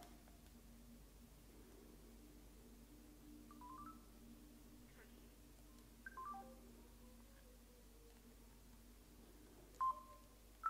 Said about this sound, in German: Wenn wir jetzt einen wahllosen Anruf starten.